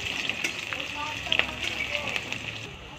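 Dried chilies and onions frying in hot oil for a lentil dish, giving a steady close sizzle with scattered crackles and pops throughout.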